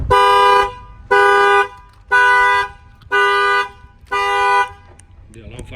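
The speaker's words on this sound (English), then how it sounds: "the alarm will fire off" A factory alarm on a Nissan Rogue blares in five loud, evenly spaced bursts of steady, harmonic tone, each lasting about half a second, with short gaps between them.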